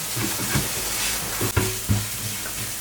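Chicken being stirred with turmeric powder in a pan for chicken sukka, with scraping stirs and a low sizzle running steadily throughout, a couple of firmer clanks near the middle.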